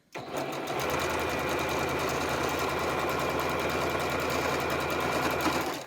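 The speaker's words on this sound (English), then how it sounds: "We're going to stitch along here." A sewing machine runs steadily, stitching quilt pieces together for a half-square block, with a continuous even whir and rapid needle rhythm, loud and close throughout with no talk.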